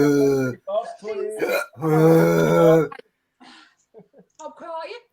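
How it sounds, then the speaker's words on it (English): A person hiccups in short, abrupt bursts mixed in with loud, lively talking and vocal noises nearby. "I've got the hiccups."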